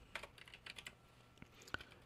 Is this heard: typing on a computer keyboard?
yes